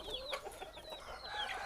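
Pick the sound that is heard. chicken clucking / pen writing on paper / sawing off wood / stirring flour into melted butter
chicken clucking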